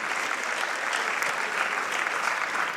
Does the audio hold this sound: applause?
yes